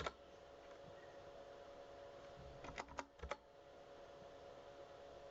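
Fingers tap a computer keyboard in a quiet room, a short run of faint, close keystroke clicks clustered together after a few seconds of near silence.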